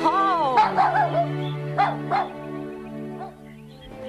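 Small cartoon dog in an animated Bible story about Jonah, giving a few quick yips and barks early on, then whimpering sounds, close and fairly loud over a sustained musical background.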